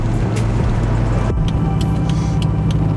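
A car cruises fast on a highway, its steady low road and engine roar filling the cabin, with a shift in tone partway through and faint higher ticks and whooshes over the drone.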